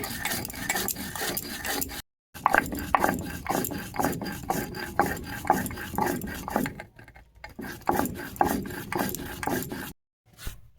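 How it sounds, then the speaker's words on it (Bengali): Spices for an amla pickle are ground by hand in a steady, rhythmic grating and rubbing, close and fairly quiet, with brief pauses between strokes and no talking. "মশলাগুলো আমি পিসে নিচ্ছি"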